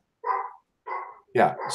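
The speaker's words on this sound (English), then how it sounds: "is there any way to mask the noise of the dog barking?" A pet dog barks twice in quick single yips, close and fairly loud, during an online image-processing talk, followed by a brief spoken remark from a person.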